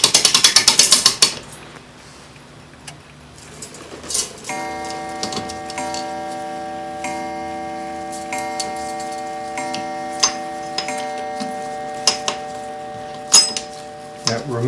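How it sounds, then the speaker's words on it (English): An American clock barrel mainspring slowly unwinds in a mainspring winder, giving a steady series of soft mechanical ticks and ratchet clicks with a faint ringing tone, close and alone after a brief louder rustle at the start. "Then change the direction of the winder and slowly unwind the spring"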